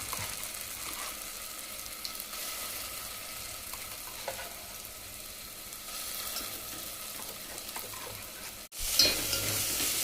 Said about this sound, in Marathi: जिरे टाकूया त्यात. चला आपला कांदा चांगला भाजला.